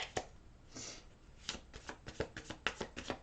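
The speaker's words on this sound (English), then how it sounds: "I'm shuffling the tarot cards really good" Glossy, slippery tarot cards being shuffled close up, a run of sharp riffling snaps and slides, irregular and quiet, with no talk.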